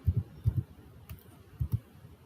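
Quiet, light key clicks on a Windows computer keyboard come in two short clusters, a few taps each, separated by a brief pause, with a faint room hiss in between.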